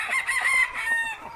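Hens cluck in a short, close burst inside a backyard chicken coop where a rooster is kept, with brief rising calls.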